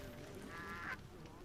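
A goose in the video game Horizon Zero Dawn gives one short, nasal honk over a low, steady game background.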